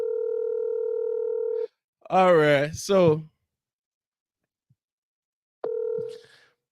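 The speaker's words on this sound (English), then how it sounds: "Did you hear that phone?" A telephone dial tone sounds steadily for a couple of seconds, cuts off as someone speaks briefly, then returns after a pause and fades out.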